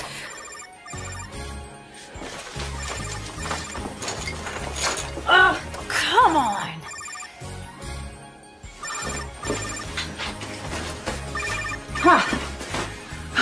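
A telephone rings repeatedly on a Christmas ranch, a bright trilling bell in bursts spread across the span, with brief spoken remarks and background movement between the rings.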